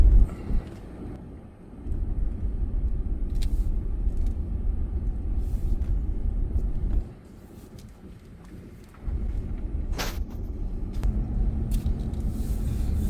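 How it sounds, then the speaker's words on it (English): Cars roll past in a steady low rumble at the Blue Ridge flea market in Saylorsburg, Pennsylvania, on opening day. The drone holds for long stretches, drops during quieter gaps and is broken by a few brief sharp noises. "Traffic's pretty picking up."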